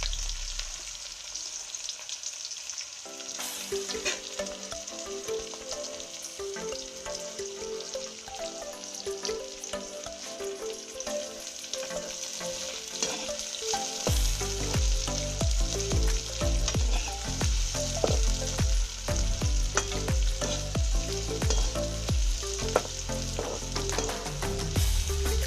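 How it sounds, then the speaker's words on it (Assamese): Sliced onions with two bay leaves dropped into already hot oil, frying for a chicken and banana stem dish, a steady close sizzle that swells and grows louder partway through as more onion hits the pan, with no voices. "তেলখিনি অলৰেডি পকিলেই আমি সেইকাৰণে এতিয়া অনিয়নখিনি দি দিয়া হ'ব"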